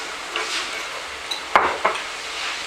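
Masala stirred in a frying pan, a soft sizzling hiss with a few light scrapes and taps of the spoon against the metal.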